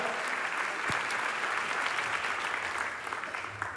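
Loud, continuous audience applause at a film festival opening ceremony in Istanbul, a dense roar of many hands clapping at once with faint crowd noise, holding steady for the whole span without talk.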